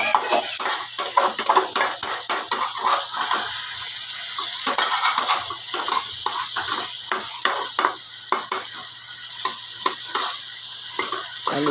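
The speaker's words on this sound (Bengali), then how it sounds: "আলুগুলো সিদ্ধ হয়ে গেছে কষাতে কষাতে।" Boiled potatoes sautéed with spices in a pan, rapid rhythmic scraping and clacking strokes over a steady bright sizzle, close and continuous throughout with no talking.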